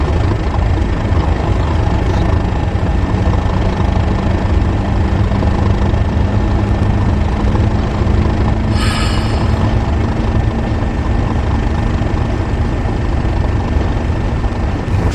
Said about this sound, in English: And then we bring the locos into the head shunt.